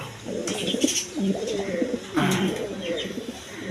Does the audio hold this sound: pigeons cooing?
yes